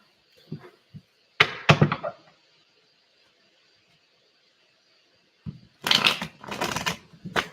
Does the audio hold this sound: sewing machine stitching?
no